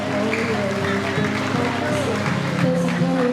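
Guests applauding Sarah's family at her 18th birthday party, dense steady clapping from a crowd with a host's amplified voice and music tones running underneath throughout.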